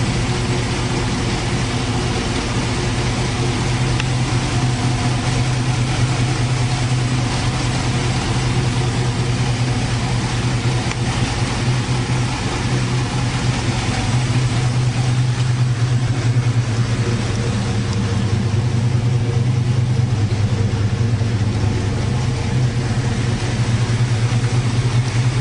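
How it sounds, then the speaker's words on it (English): A 1973 Dodge Challenger engine running at a steady idle, a continuous low rumbling drone with no talk over it, holding even throughout. "Right here is my Dodge Challenger made in 73."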